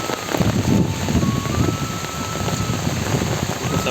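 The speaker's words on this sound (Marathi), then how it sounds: "पाऊस चालूच आहे पूर्ण दिवस" Steady all-day rain falls in a continuous patter on farmland, with some wind buffeting the microphone and a faint, high, tonal note drifting through.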